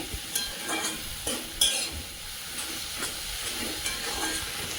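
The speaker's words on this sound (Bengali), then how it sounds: "টমেটো, রসুন, কাঁচা লঙ্কা, ধনে পাতা সব একসঙ্গে কষিয়ে নিচ্ছি" Tomato, garlic, green chilli and coriander leaves sauté together in a pan: a close, steady sizzle and hiss broken by several stirring scrapes and clatters of the spoon, with no talking.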